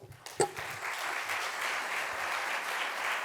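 Audience applause following the introduction at an inaugural conference lecture: after a brief sound at the start, steady sustained clapping from a seated crowd fills the room at an even level.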